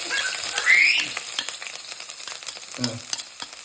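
Fenugreek seeds, ginger and garlic sizzle and crackle in hot oil in a pan, with a steady close frying hiss, stirring scrapes, and a brief utensil clatter near the end.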